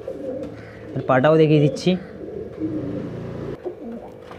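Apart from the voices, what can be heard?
pigeon cooing in a bird shop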